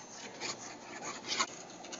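Steady rasping strokes of 120-grit sandpaper across a plywood desk top, close and fairly quiet, with a slightly rhythmic back-and-forth texture.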